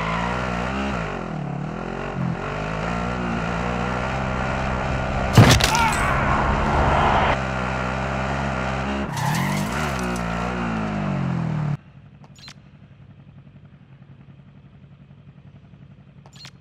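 Car engine driving in the video game Warzone, a steady loud drone with revving swells and two sharp bursts, cutting off abruptly near the end to leave quiet background with a few faint clicks.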